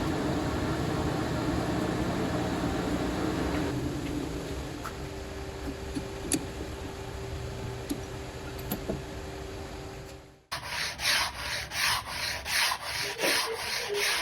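Wood for a quilt ladder is sanded by hand in a steady, close, continuous rubbing, followed after a brief pause by shorter rhythmic strokes.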